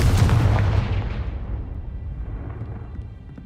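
A Confringo spell detonates in Hogwarts Legacy with a heavy, booming explosion that hits loud at once, then rolls off into a long rumbling decay over several seconds.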